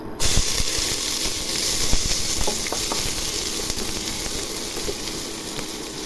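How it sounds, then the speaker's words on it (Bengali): Onions frying in hot oil in a pan give off a dense, continuous crackling sizzle. Small clicks of stirring rise above it, loud and close throughout. "বেরেস্তা করা ওই তেলের মধ্যে পেঁয়াজ ভেজে নিব"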